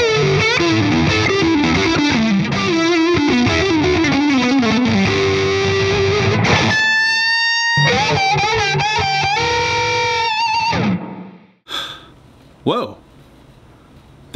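An electric guitar with a distorted, effects-laden tone plays loud riffs and bent notes up close, stopping abruptly before a few faint noises.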